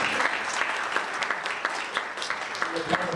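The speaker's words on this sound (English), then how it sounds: "And so y'all give my Chief Deputy, Jim Evans, a round of applause." Audience applause at a candidate forum honoring a sheriff's chief deputy, a steady wash of many hands clapping with scattered louder claps, sustained throughout.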